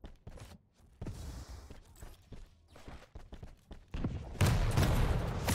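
Rocket explosions and weapon fire in the arena shooter Quake Champions: sharp, punchy blasts come in quick bursts, building to a loud, dense explosion near the end, with footsteps between them.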